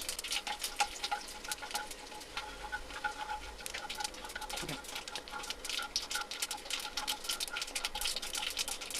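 Urad dal and mustard seeds crackle in hot oil in a kadhai, a dense, steady patter of sharp pops and sizzles running throughout at close range, with no talking.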